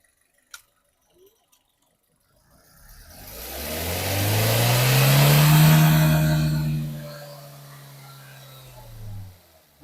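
A 2023 Maruti Swift VXI petrol car engine starts up after a couple of faint clicks, idles with a low steady hum, then fades down toward the end.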